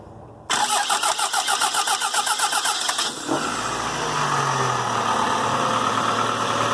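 A car engine cranks with a rapid pulsing starter whir for about two and a half seconds, then catches and settles into a steady, fairly loud idle. The engine was started by bypassing the ignition after a no-crank fault.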